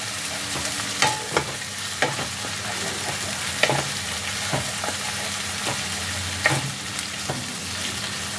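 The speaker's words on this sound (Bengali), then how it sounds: "আদা রসুনের পেস্টটাও পেঁয়াজের সাথে খুব ভালোভাবে ফ্রাই করে নিতে হবে" Ginger garlic paste fries with onions in a pan, giving a steady soft sizzle broken by regular scraping and clinking stirs of a spatula, close up and with no voices.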